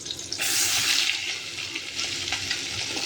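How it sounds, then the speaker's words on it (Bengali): Hilsa fish tail and head pieces hit hot oil and fry with a loud, steady crackling sizzle, bursting up sharply at the start and then settling into a continuous spitting hiss with no voices. "তেলটা গরম হয়ে আছে, এর মধ্যে দিয়ে দিচ্ছি মাছের লেজা আর মাথার পিসগুলো"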